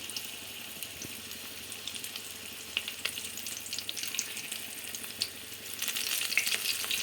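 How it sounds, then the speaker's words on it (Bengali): Prawns frying in hot oil for a chilli prawn dish, with a steady close hiss and sputter that grows louder toward the end, and faint scattered pops throughout. "আমার পন চিংড়িগুলো আমাদের ভেজে নেওয়া হচ্ছে"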